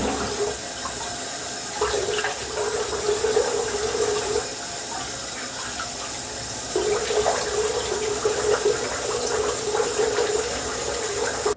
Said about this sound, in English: So wet with cold water, and I put some lotion on